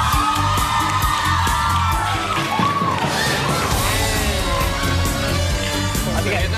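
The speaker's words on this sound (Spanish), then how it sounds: "a alguien que le aplaudan por exprimir un limón" A television studio audience cheers, whoops and yells loudly and continuously for someone squeezing a lemon on stage, the crowd noise filling the whole stretch with voices mixed in.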